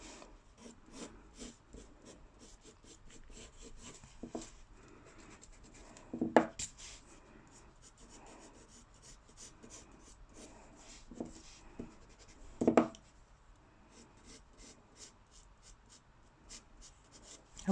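Pencil sketching lightly on paper while drawing a shell outline, a steady soft scratchy rhythm of short strokes, close and quiet, with a couple of louder knocks or scrapes mid-way.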